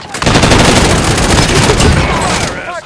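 Loud, sustained automatic gunfire in a first-person shooter game rattles in a rapid, unbroken stream for nearly three seconds, then cuts off abruptly.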